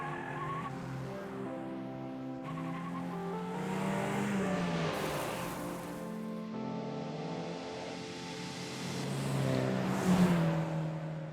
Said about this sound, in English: Looks like a car's coming.